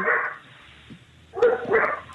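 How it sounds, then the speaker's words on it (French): A dog barks in two short bursts, the first brief and the second a cluster of yips and barks, fairly close and sharp against a quiet room. "Ah, un chien."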